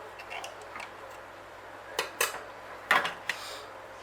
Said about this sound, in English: so I'll just get a knife in there. Just see if I can loosen up the bottom.